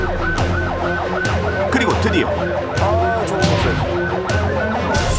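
A fire truck's wailing siren on an emergency call through congested traffic, loud and close with rising and falling sweeps over engine rumble, while a narrator talks over it.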